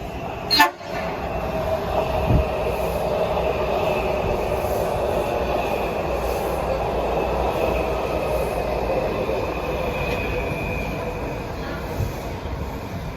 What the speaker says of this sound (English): Oh, that was a train of Breda built cars.